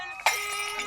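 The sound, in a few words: glass fishbowl shattering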